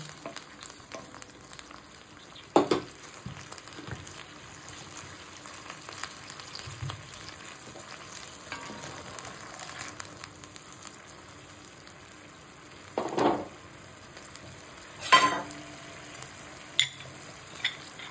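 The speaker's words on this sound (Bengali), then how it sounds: "চিনিটা মেল্ট হওয়া অবধি এটাকে আমরা ফুটাবো।" Sugar and whole green chillies simmering in a tempering for dhokla, a soft steady bubbling and sizzle with a few louder stirring clatters near the end, no talking.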